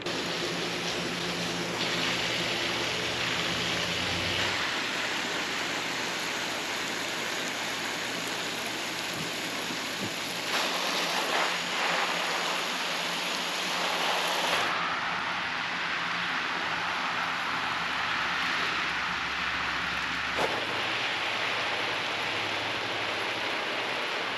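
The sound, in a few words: hand watering plants with a hose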